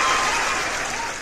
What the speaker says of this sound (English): I think we should give Levon a cheer